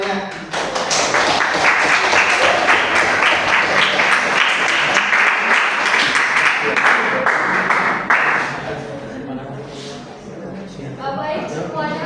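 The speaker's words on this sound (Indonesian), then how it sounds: "Tepuk tangan semuanya." Classroom audience applauding a student group before their presentation, dense loud clapping for about eight seconds that then fades, followed by a speaking voice.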